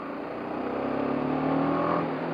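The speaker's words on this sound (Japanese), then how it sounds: "開ければやはりそれなりに鋭く吹き上がるという感じですね" A BMW G 310 GS motorcycle engine revs up sharply and steadily at close range, its tone climbing and holding with a dense, continuous roar and no talking.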